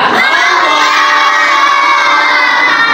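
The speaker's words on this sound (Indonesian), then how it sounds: "Kita teriak Allah bareng-bareng." A large group of children at an Islamic children's gathering shout "Allah" together in one loud, sustained burst that fills the room and holds steady for several seconds.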